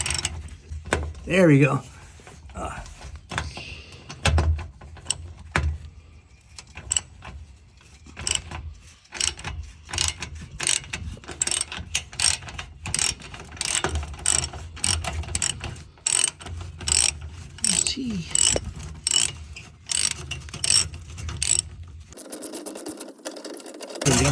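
A ratchet with a 13 mm socket works loose a bolt under a 2022 BMW M240i during a downpipe install, giving quick bursts of clicking strokes between pauses, close up, with brief talk and shop noise.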